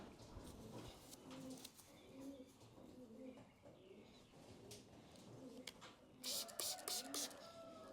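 Young racing pigeons coo softly and repeatedly at close range in a quiet loft, their low throaty calls recurring in a steady rhythm. A burst of rustling or flapping comes near the end.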